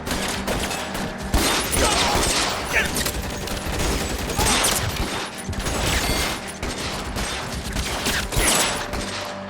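Heavy sustained gunfire in the L.A. Noire video game, a dense fusillade of rapid shots and bursts filling the whole stretch, loud and close with a faint voice underneath.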